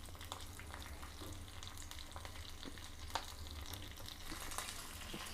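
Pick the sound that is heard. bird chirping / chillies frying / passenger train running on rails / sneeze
chillies frying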